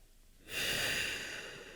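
One strong, close breath rushes in abruptly and then sustains with a slight taper, airy and full, alone without speech, taken while holding goddess pose with hands in Jnana Mudra during a yoga practice.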